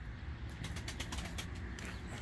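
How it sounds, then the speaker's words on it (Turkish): Tumbler pigeons burst out in flight, a close rapid fluttering of wings in repeated flaps over a steady outdoor background, with soft cooing mixed in. "Arkadaşlar şimdi çıkacak kuşlar."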